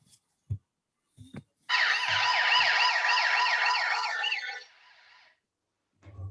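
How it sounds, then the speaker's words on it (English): A loud wailing police siren from a phone app, with a warbling, oscillating pitch, sounds for a few seconds after some faint knocks, then cuts off. "use the buzzer, which is the police siren, very very effective"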